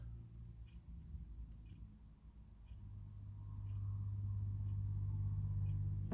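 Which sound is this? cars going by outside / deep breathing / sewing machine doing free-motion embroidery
cars going by outside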